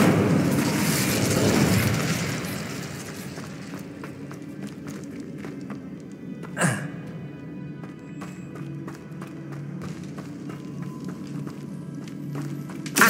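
The Incendio fire spell is cast with a broad rushing whoosh of flame in the first couple of seconds, followed by a single sharp crack midway and a quieter crackling tail.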